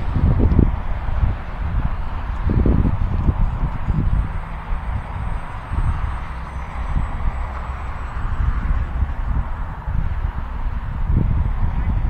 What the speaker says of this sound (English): Yeah, wind's picking up.